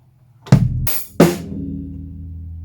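A deep kick drum thump followed quickly by a bright hi-hat splash, then another low hit with a ringing tail, close and loud, part of a drum pattern for a song.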